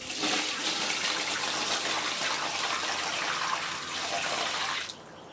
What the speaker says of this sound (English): pour off a lot of the water on top